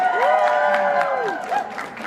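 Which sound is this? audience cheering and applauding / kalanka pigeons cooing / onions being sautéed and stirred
audience cheering and applauding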